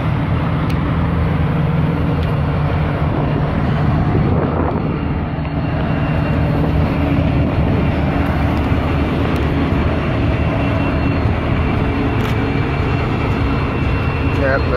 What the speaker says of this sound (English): TT08 is the leading locomotive.